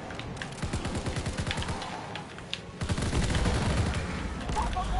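Rapid bursts of close automatic gunfire in a WW2 zombie game, dense rattling volleys that pause briefly then resume heavier and continuous, with other shots mixed in.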